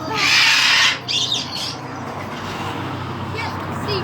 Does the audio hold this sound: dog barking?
no